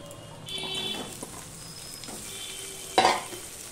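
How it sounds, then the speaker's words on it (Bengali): Potatoes tipped into a pan of fried onion and garlic, giving a brief loud sizzle and stirring scrape near the end after steady frying crackle, close by with no talk. "পেঁয়াজটা ভাজা হয়ে গেছে, এবার আমি আলুটা দিয়ে দিচ্ছি"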